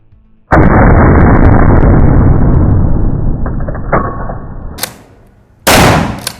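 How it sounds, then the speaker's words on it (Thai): Two gunshots from a firearm fired at a 10-metre target on a range: a loud sustained blast with a long ringing decay, then a second sharp crack near the end, close and unaccompanied by talk. "เริ่มยิง"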